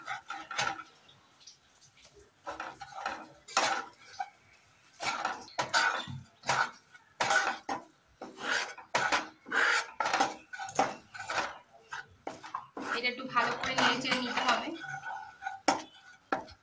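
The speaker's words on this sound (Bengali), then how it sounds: "অল্প অল্প করে ময়দা দিয়ে নাড়তে হবে, একসাথে বেশি দেওয়া যাবে না" Scraping and clinking of a utensil against a pan while flour is stirred in for white sauce, a series of short sharp strokes in irregular rhythm, close and fairly clear.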